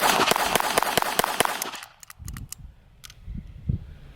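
A Beretta Bobcat Inox .22 LR pistol firing Winchester ammunition, a quick string of about eight sharp close shots with metallic target dings, then quieter handling and shuffling.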